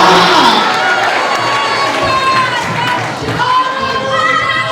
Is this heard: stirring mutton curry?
no